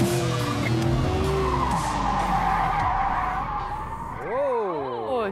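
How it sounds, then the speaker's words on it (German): A sports car drifts with loud, sustained tire squeal and roaring engine across the whole stretch, the pitch sliding and rising near the end as the car swings around. "Wenn ich einen Mann kenne, der driften kann, dann heißt der Niki Schelle."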